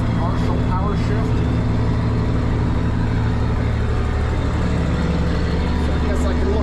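A Case 2670 tractor with a partial power shift transmission runs in third gear, its engine a loud, steady, close-up drone with a constant mechanical rattle throughout.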